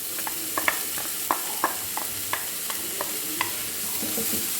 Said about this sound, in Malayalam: ഇട്ട് കൊടുത്ത് ഇത് നന്നായിട്ട് ഇളക്കി കൊടുക്കാം.